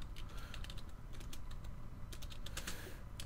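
Quick, uneven bursts of key clicks come from a French-layout computer keyboard, typed in rapid clusters with short pauses between them, fairly close and quiet.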